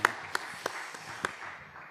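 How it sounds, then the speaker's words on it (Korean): Congregation at a Sunday church service claps after a hymn, a handful of scattered, fairly faint claps spaced irregularly over a quiet room. "귀한 찬양 박수 부탁합니다"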